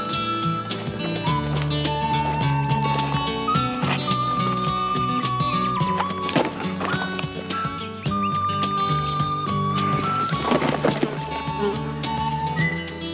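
Horses clip-clop and a horse whinnies in a Western setting, with hooves and neighs heard over orchestral music, fairly distant and under the score.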